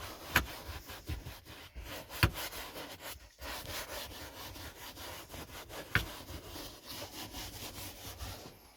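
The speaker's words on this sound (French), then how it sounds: "un coup de brosse, justement pour aider le produit à attaquer la moisissure" A brush scrubs a mouldy car seat after cleaner has been sprayed on it, giving steady close rasping strokes with a few sharper knocks, without any talk.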